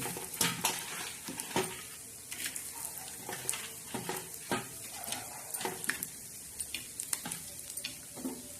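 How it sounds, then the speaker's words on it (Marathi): Peanuts roasting in leftover oil in a pan crackle and sizzle under repeated scraping, clinking stirring strokes, a close, rhythmic series of sharp taps over a constant low fry. "जे तेल राहिलेलं आहे ना त्याच्यात आपण शेंगदाणे घालतात"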